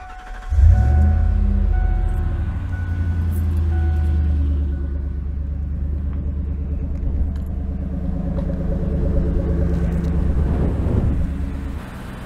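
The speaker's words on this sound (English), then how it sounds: "Let's go ahead and start the truck." A truck engine cranks and catches with a thump, then settles into a steady, deep idling rumble that runs close and continuous for several seconds before cutting off.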